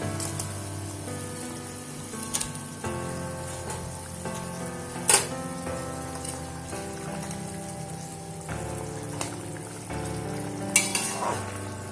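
Simmering sizzle and bubbling in a pan of potato curry, with a few sharp clinks and splashes as fried parshe fish pieces are dropped in and stirred.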